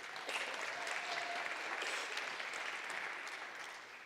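Sustained applause from a conference audience at welcoming remarks, dense steady clapping throughout at moderate distance with no voices over it.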